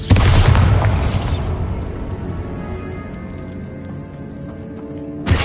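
A Bombarda spell blast from the game Hogwarts Legacy booms loudly at the start, then its broadband rumble decays over several seconds before a second sharp burst hits near the end.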